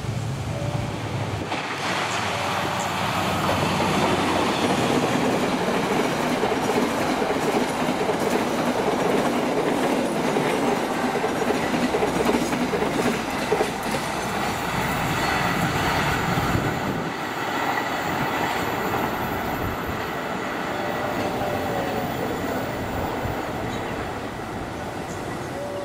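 A container freight train rolls in on a station track, a long steady rumble of wagons with rhythmic clickety-clack of wheels over rail joints, continuous and fairly close throughout.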